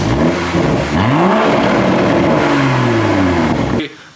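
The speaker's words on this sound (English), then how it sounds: "The exhaust note from factory" A 2022 Toyota Supra's factory exhaust revs loudly up and down, with rising and falling engine tones heard close for about four seconds before cutting off abruptly.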